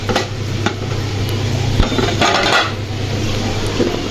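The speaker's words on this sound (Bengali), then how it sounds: "প্লেটগুলো আমার মোছা হয়ে গেছে আমি এগুলো জায়গার মতো রেখে দিব" Ceramic plates being wiped and stacked away in a home kitchen, a few clinks and knocks of dishes over a steady low hum, close and with no talking.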